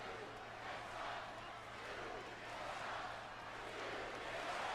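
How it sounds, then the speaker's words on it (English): A large arena crowd at a WWE Monday Night Raw wrestling show chants together, producing a steady, distant roar that holds evenly throughout. "What is the crowd saying? Oh, they're saying New Day sucks."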